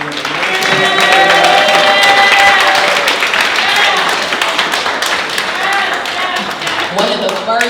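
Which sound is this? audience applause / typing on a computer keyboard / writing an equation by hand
audience applause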